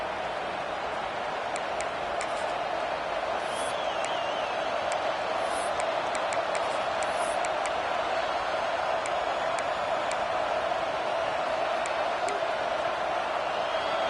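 A football stadium crowd produces a steady, dense roar that fills the air, with faint ticking and scattered sharp clicks on top and a voice speaking beneath it.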